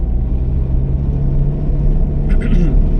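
A car engine rumbles and pulls under throttle during a first driving lesson, a steady mid-low drone heard from inside the cabin, with a voice speaking over it.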